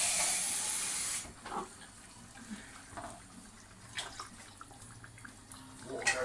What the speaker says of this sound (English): Water goes in.